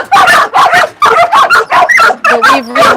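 A dog at a South Korean dog meat farm barks and yips in quick repeated bursts close to the microphone, with whimpering tones mixed into the string of barks.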